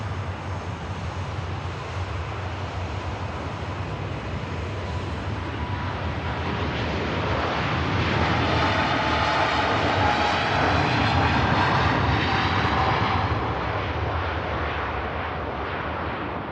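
A Qatar Airways airliner departs Manchester Airport, its jet roar building to a loud crackling peak around the middle as it passes near, then easing slightly while still strong.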